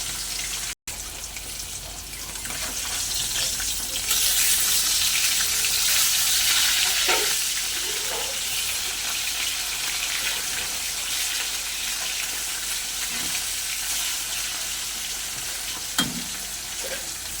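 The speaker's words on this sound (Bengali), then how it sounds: "মাছগুলো উল্টে পাল্টে ভালো করে ভেজে নেবো" Rohu fish fry in hot mustard oil, a loud unbroken sizzle with a brief dropout near the start and occasional soft clicks as the pieces are turned.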